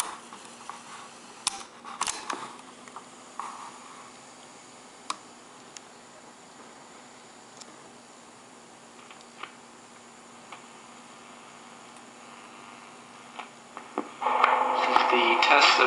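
A Panasonic RQ-212DS portable cassette tape recorder from the early 1980s rewinds with a steady, faint motor whir and a few small clicks, then a louder rushing burst at the end.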